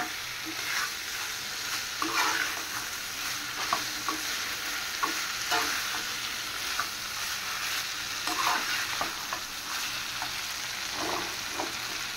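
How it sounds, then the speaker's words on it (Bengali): Fried okra and spices cook down with shrimp in a pan, a continuous close sizzle under repeated scraping stirs of a spoon for several seconds, no voices. "এখন আমি ঢেঁড়স আর মশলা আর একটু সময় কষাবো"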